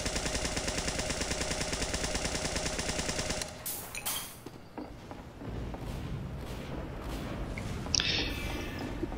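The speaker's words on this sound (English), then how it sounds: "his needle gun at really long range." Team Fortress 2 Medic needle gun firing a fast, steady stream of rapid shots for several seconds, then stopping, followed by scattered softer shots and thumps at a distance, with no talk.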